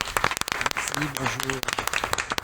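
Studio audience applause on a French television show, sharp scattered claps close to the microphone, with someone speaking briefly over them.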